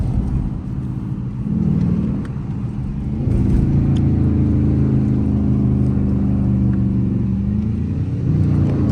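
A straight-piped Dodge Charger R/T engine rumbles loudly nearby and revs up, its deep exhaust droning steadily with swells in intensity.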